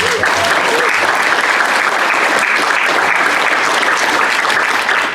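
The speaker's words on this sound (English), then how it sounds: "So please give a big round of applause to Kathy." Sustained applause from an audience at the 34th ArtsNL Arts Awards ceremony in Eastport, a dense, steady wash of clapping that stays loud and even for the full stretch, with a faint voice briefly audible near the start.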